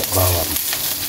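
Garlic sizzling and frying in hot cooking oil for pork afritada, a loud steady sizzle that swells early and then settles into a continuous crackle.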